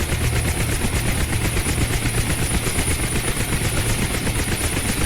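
A UH-1 Huey helicopter in the DCS flight simulator thrums with a steady, rapid rotor chop and turbine whine during shutdown, loud and continuous throughout.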